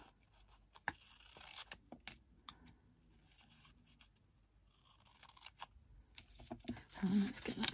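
Quiet, close snips and crisp paper rustles as scissors cut paper for junk journal snippets, a few scattered cuts with handling noise between them.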